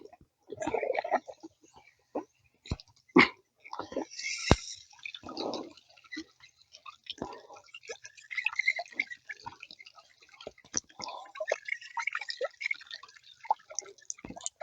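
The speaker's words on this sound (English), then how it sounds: "let's start pumping some water through." Water from a stagnant river being pumped through a portable camping water filter, heard as irregular drips and trickles with soft clicks, fairly close and steady throughout, with no talking.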